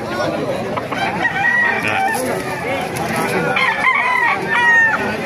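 Roosters crow and chickens cluck at a poultry market in Calumpit, Bulacan, several birds calling over one another amid busy background chatter.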